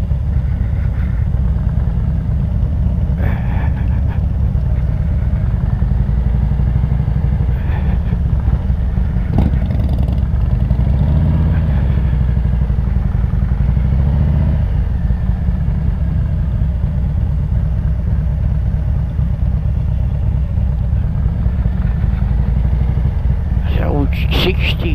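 A motorcycle engine on a road ride drones in a steady, loud low rumble that stays constant throughout, with people talking over it.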